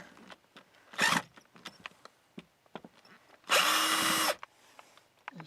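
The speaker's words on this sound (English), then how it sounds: "now I'm just going to open the panel and undo these screws right here" A power drill undoes panel screws on a vent in two short, loud whirring bursts, the second longer, with quiet handling clicks and rustles in between.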